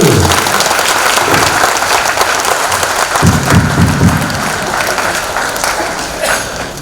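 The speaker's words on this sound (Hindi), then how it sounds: "ताली नहीं बजाएंगे बड़े भैया के लिए?" Loud applause rolls through the audience after a stage performance of the play Anandamath in West Bengal, a thick sustained clatter of many hands that swells midway and then eases slightly.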